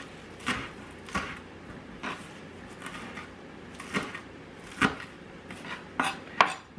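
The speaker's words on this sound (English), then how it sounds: "Again, I like to chop my lettuce." Knife chopping fresh lettuce on a cutting board in a home kitchen, a series of sharp, irregular close chops spaced about half a second to a second apart, with quiet pauses between.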